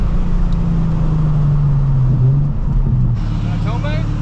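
A Nissan 350z HR with Megan Racing exhaust runs with a steady, low engine drone and rumble, with wind noise and people talking over it.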